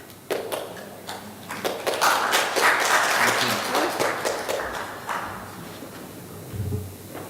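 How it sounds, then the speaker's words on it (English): Audience applause for a guest speaker called to the stage at a metaverse summit and awards event, a burst of clapping from a crowd that swells then tapers over several seconds, with sharp individual claps standing out. "An applause, please."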